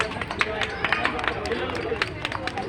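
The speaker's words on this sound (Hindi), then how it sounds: "जोरदार तालियां अनन्या के लिए।" An audience claps during a Republic Day celebration in India. Scattered, uneven claps snap over a steady crowd murmur at moderate distance, with people chattering throughout.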